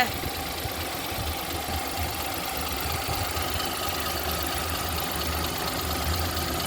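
Close and steady, a 2010 Maruti Suzuki Alto Vxi engine runs at idle with a low, even hum and faint rhythmic knocking throughout, with no voices over it.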